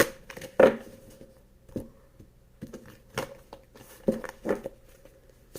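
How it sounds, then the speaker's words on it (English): Tarot cards are shuffled by hand in a run of soft, irregular riffles and slaps, close and fairly quiet, with short pauses between bursts. "One more shuffle."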